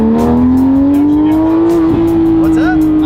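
A Porsche sports car engine holds a steady, slowly rising high-pitched note, then flutters and briefly dips near the end, loud and close, with voices talking over it.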